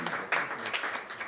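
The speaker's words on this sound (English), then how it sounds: "Another round of applause." Brief, faint scattered clapping from a small group at a board of education meeting, a handful of claps heard at a distance in a quiet room.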